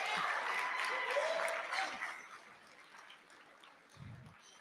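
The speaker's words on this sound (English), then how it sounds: "Another hand clap for them as they're leaving the podium." An audience claps for departing award honorees at an advertising industry ceremony, a dense burst of applause that fades out over a couple of seconds, followed by quiet room tone and a soft thump.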